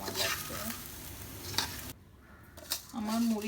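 Puffed rice roasting in a hot pan gives a steady dry sizzle and gritty stirring rustle close by, broken by a short quiet gap and a few scraping stirs.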